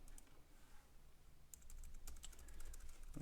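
Close keyboard typing at a computer during a property lookup, a quiet stretch of taps that turns into a busier, louder run of keystrokes in the second half, with no talking.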